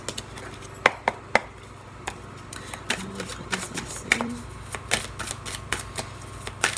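Tarot cards being shuffled and cut by hand at a table, a run of dry, crisp riffles and taps with irregular gaps, close and fairly quiet, with no talking.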